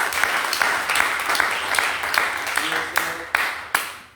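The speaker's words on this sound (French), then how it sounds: "Est-ce que vous remercier le Seigneur par des acclamations fortes?" A church congregation applauding with rhythmic bursts of clapping during a Mass, steady and fairly close, with a few louder claps near the end.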